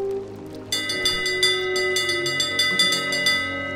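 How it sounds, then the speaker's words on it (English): A ship's bell in the pirate video game Sea of Thieves rings in a quick series of bright metallic strikes, each leaving a sustained ringing tone. It starts after a brief quiet moment and is loud and close. "That is the bell of happiness."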